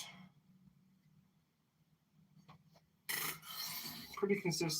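A knife being sharpened at a forge, heard as a low hum for about three seconds, then a loud, steady abrasive rasp of steel against a stone or file that continues to the end.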